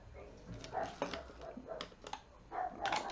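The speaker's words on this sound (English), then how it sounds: "My dog having a bark" A dog barks in several quick bursts, fairly faint and somewhat distant indoors, with short pauses between the barks.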